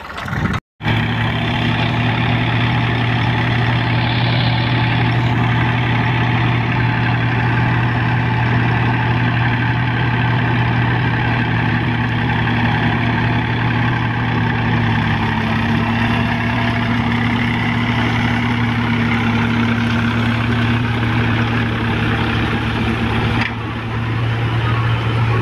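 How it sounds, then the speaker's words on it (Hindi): A Massey 9500 Smart tractor engine runs at a steady, loud, close idle with a constant low throbbing hum that holds unchanged for the whole stretch, with no talk over it. "चलिए अब हम इस ट्रैक्टर को लेके चलते हैं"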